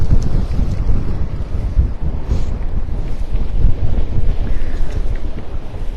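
A sailboat under way at the start of a charity race, with heavy wind buffeting the microphone over rushing water and wave wash along the hull, loud and steady throughout.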